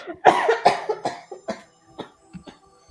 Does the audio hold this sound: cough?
yes